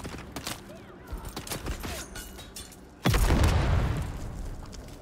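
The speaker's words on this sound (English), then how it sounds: "I really like these grenades, man." A grenade blast in Dune: Awakening: a heavy, close boom bursts out midway and rumbles on, following a stretch of scattered pops and gunfire.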